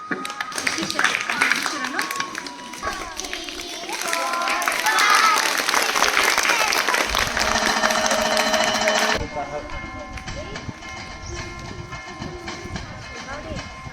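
Children at a primary school festival assembly make a rain clap, a dense, continuous patter of many hands that swells and then drops to a softer, steady level partway through.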